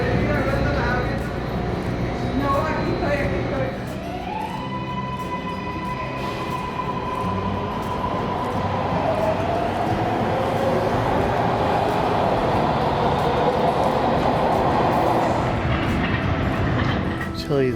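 A MARTA rapid transit train rolls along the rails in Atlanta, a loud, continuous rumble with clattering wheels and a long whining tone that rises and fades, with voices faintly present beneath the noise.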